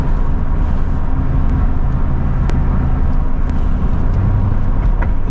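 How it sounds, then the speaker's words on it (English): Tire and road noise from a 1996 Corvette fitted with 17x11 inch wheels, a loud continuous broadband roar with low rumble heard from inside the car while driving through a residential area. "The tires are definitely a little bit louder than"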